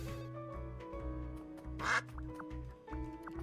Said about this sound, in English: You think you can use it to quack at someone?